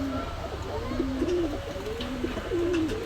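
Pigeons coo in short repeated rolling phrases, fairly close, over a low steady background hum with faint noise around them.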